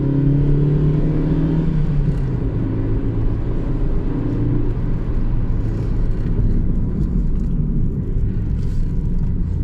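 A Nissan Micra K12 1.2 engine hums and strains, heard from the cabin while climbing a steep hill, its pitch dropping after a gear change into a steady low droning rumble.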